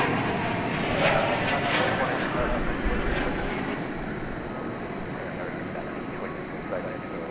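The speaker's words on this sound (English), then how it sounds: "American Flight 9 arriving from Albuquerque, New Mexico, 737-800" An American Airlines Boeing 737-800 arrives at DFW airport at night, its broad, steady jet engine roar lasting throughout and slowly fading, heard from a distance with a voice talking quietly over it.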